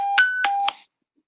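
A fire station alert tone for a fire call sounds as three clear electronic chime notes about a quarter second apart, close and fairly loud, then stops into silence.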